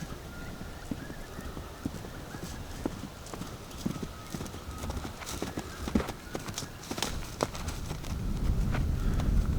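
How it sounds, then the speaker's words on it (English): Hooves thud and clip-clop on soft ground as a foal canters closer, the rhythmic beats growing louder over faint outdoor background noise. "here comes the foal cantering down to us"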